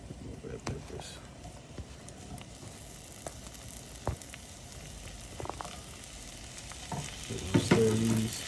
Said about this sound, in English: Stir these for about 2 minutes so everything starts to soften up